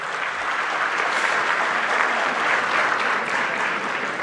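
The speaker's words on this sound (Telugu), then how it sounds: "గట్టిగా చప్పట్లు కొట్టాలండి," A crowd claps loudly and steadily for several seconds at a political speech by a state minister, a dense, continuous applause with no pauses.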